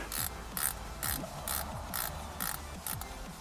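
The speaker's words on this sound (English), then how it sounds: "I got that little ratchet onto that T20 there, and just go ahead and back this bolt out to release the collar." Small ratchet backing a T20 bolt out of the shifter collar on a 2015-2020 Mustang S550 with a six-speed manual, a fast, close, steady clicking repeated in roughly eight short bursts with no talk.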